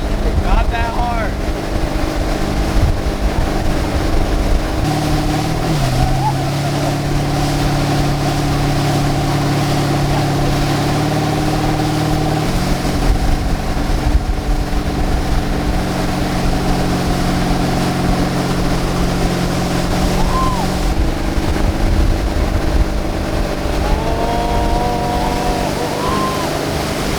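A motorboat engine drones steadily and loud, shifting pitch as the craft turns through corners, with wind and water rushing beneath it and voices talking over the run.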